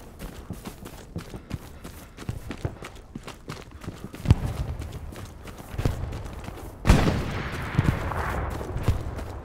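Distant-to-mid gunfire in the World War II shooter Hell Let Loose, a scattered run of sharp cracks that builds into a louder burst after several seconds, with no talking.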